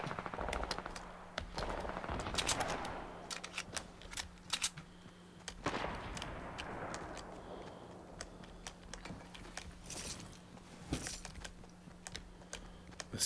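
Rapid gunfire in a shooter game, heard as dense clusters of sharp cracks and bursts that come and go across the whole stretch, mixed with quieter clicking.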